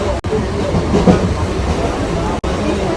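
Riding inside a moving passenger train: a steady low rumble with rhythmic rail clatter fills the carriage, close and constant, with brief cuts in the sound.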